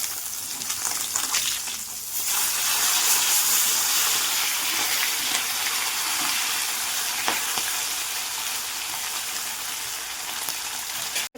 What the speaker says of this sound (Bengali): আমি মাছ ভাজছি